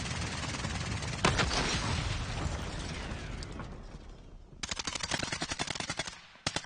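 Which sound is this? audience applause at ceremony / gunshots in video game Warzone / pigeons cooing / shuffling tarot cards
gunshots in video game Warzone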